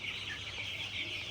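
A crowd of about a thousand fifteen-day-old Colour Bat chicken chicks peep in a dense, continuous high chirping chorus, faint and steady throughout.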